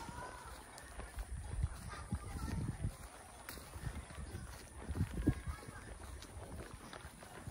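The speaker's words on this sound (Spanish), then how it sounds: "Todos andan a caballo." Horses walk at a rural patron saint festival in El Venadito, with scattered hoof clops on soft ground amid faint background voices and crowd noise.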